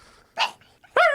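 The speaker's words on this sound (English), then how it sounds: "He's making the dogs bark." A dog gives two short barks, the second louder and more tonal, close by in a quiet room.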